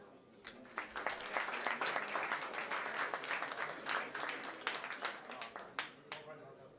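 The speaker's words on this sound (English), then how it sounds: "So give him a round of applause" Audience applause at a live-streamed panel event, a burst of many hands clapping that swells and then thins out into scattered claps, with faint voices underneath.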